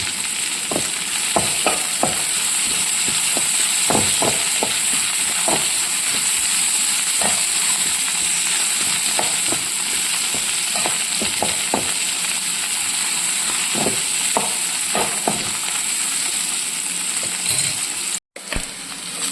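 Green chilies sizzle and fry steadily in a hot pan while cooking okra mappas, a continuous loud hiss broken by scattered sharp pops and crackles, with no talking.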